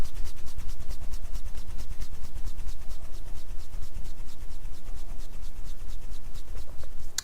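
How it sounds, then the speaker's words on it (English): Skin rubbed quickly during a facial lymph massage makes a fast, even rhythmic brushing and friction sound, very close and steady for several seconds, with no talk. "If you feel sore, go ahead and rub fast like this."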